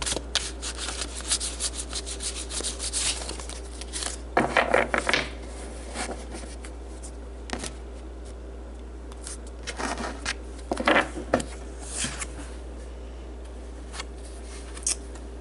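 Oracle cards being shuffled and pulled from a deck, giving a continuous close papery rubbing and sliding with a few louder riffling bursts over a steady background hum, and no voice.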